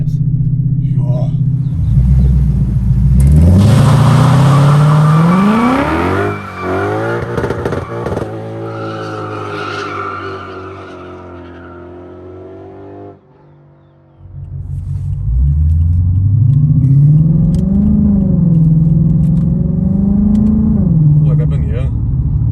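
A Lexus IS F V8 revs hard to its limiter, a loud close rising howl that climbs, bounces off the limiter, drops to idle and then winds up again in a second long rev.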